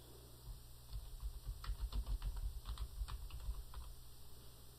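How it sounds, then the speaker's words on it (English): Someone typing a name on a computer keyboard, a quick run of soft key clicks in an uneven rhythm, close and quiet over a faint background hum. "Let's go ahead and type her name out."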